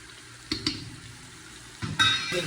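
Spices get stirred into camel meat kabsa in a pot, with a few scraping stirs and light knocks of a spoon over a low sizzle, close and fairly quiet, no one talking.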